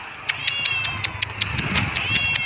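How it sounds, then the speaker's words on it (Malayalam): A cat crying outdoors in a green village after rain, its repeated high, drawn-out meows coming from behind a wall at a moderate distance over a steady background hum. "ഒരാൾ കരയുന്നണ്ട പൂച്ച"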